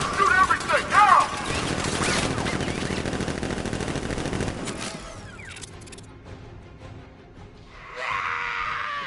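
Rapid machine-gun fire and dense volleys of shots in a PS4 video game firefight, loud and continuous for about four seconds before thinning into quieter game sounds, with a brief high rushing burst near the end.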